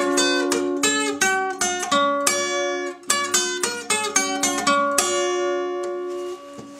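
A guitar picks a blues melody, close and clear, in a steady stream of plucked notes with ringing overtones, with no talking.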